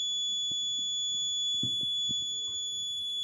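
An Arduino-based vehicle accident detection system sounds its alarm buzzer after detecting alcohol, a steady high electronic tone that holds on throughout, with faint low knocks beneath it.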